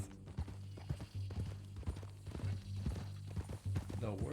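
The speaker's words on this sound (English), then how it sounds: "That new horse?" Horse hooves clip-clop in a steady walking rhythm close by, partly under a man's and others' talk and a low steady hum.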